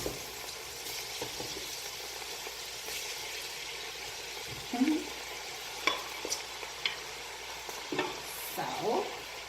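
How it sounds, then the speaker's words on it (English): Steady sizzling and frying crackle of curry chicken in a hot pan, close by, with occasional scraping stirs and small clinks; no talking. "I want to hear my chicken sizzling just like that too"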